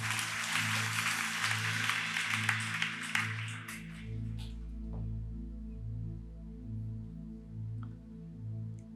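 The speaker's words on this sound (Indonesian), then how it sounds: "Yuk kita berikan tepuk tangan bagi nama Tuhan." A church congregation claps for a few seconds, brief applause over low sustained music that continues alone after the clapping fades.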